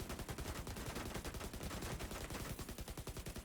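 Rapid automatic rifle fire from The Division 2 crackles in a tight, continuous burst of evenly spaced shots with no pauses, fairly quiet, and no voices.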